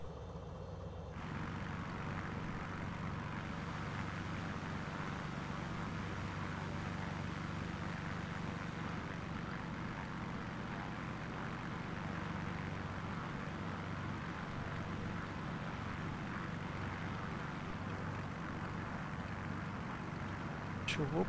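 Microsoft Flight Simulator 2020 medium airplane's engine drones steadily during an approach to Campo Mourão in Paraná, a continuous moderate propeller-like hum lasting the whole stretch after a brief quieter start.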